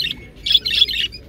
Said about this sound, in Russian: Певчие попугайчики, а видите, самец такая, поярче, самочка.